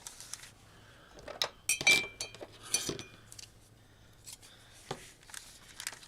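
Scissors snip through craft material in a series of short, crisp, irregular cuts with small clinks between them, fairly close but quiet against a soft background.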